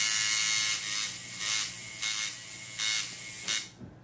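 A tattoo coil machine fitted with a cartridge system, running at about 8 volts, buzzing steadily in repeated short bursts with brief pauses between them, close and clear with no talk.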